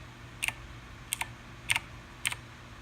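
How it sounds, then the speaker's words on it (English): Keys on a white Razer BlackWidow X Chroma mechanical keyboard click in four separate pairs of crisp, close taps spaced evenly apart, with no talking. "I keep on clicking the wrong keys"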